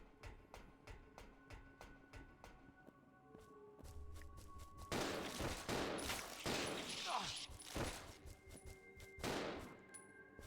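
Repeated gunshots in the survival horror game Resident Evil Zero, sharp single reports spaced out at first, then a denser, louder volley of shots with footsteps, no talk.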